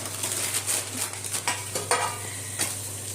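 Onions sauté for biryani in a pan, giving a steady sizzle broken by scraping stirs at irregular moments. The cooking sounds close and moderately loud, with no talk over it.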